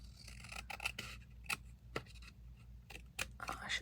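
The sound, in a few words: scissors trimming the white edge off collage paper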